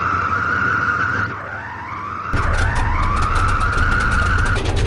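Twin radial piston engines of a DC-3 airliner cranking and catching in the FlightGear flight simulator, a steady whining drone that dips, then surges louder as the second engine kicks in and roars alongside it.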